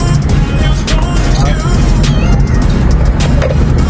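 A Honda Civic 2.0 Dimension, with its electronic steering converted to a hydraulic type, driving on a road test: a loud, steady wash of engine and road noise inside the car, with voices over it.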